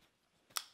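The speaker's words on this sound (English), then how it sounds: "Then you just got to trim these tag ends off." Scissors snip once through the tag ends of a kayak anchor trolley line, a single short, crisp cut close up after near silence.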